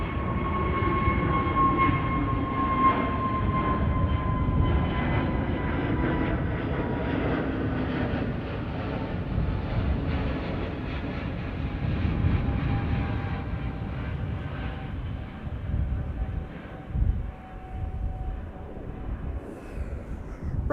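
A large airliner takes off from runway 22 at Amsterdam Schiphol Airport, its jet engines a loud, steady broadband roar with whining tones that holds for about twenty seconds and slowly eases as the aircraft moves away.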